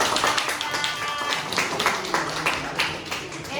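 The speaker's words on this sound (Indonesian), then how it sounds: "Oke, berikan tepuk tangan." Classroom audience clapping during a teaching practice session, a steady, fairly loud burst of many hands together that keeps going without a break.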